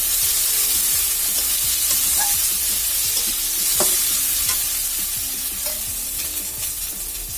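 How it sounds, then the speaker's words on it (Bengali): Ginger-garlic paste sizzles loudly in hot oil for a green papaya and fish curry, a dense constant fry broken by scraping stirs of a spoon against the pan. "এখন দিয়ে দিলাম আদা রসুনের পেস্ট। এটা দিয়ে একটু কিছুক্ষণ নাড়াচাড়া করে নেব।"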